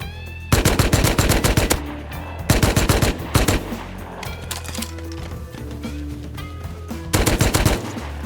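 Rapid automatic gunfire in the survival video game Rust, loud and close, firing in several sharp bursts with short gaps and some quieter trailing shots between them.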